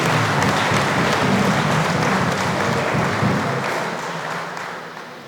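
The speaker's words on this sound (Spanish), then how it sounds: "Aplausos a Dios." A church congregation applauds during a Mass, producing a dense, continuous wash of clapping that holds steady and then gradually fades toward the end.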